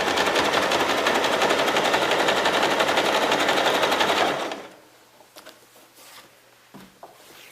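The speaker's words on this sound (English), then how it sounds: "And just keep on wrapping and zigzag stitching." A sewing machine zigzag stitching fabric wrapped into a basket, running loud and fast for about four seconds, then stopping, followed by a few quiet handling sounds.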